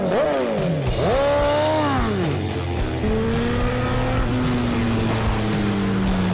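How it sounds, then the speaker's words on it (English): A motorcycle fitted with a new aftermarket exhaust roars loudly and continuously while riding, its engine note climbing and dropping through several throttle changes before settling into a steadier drone, with no talking. "let's see what the new exhaust sounds like and compare it to the stock exhaust"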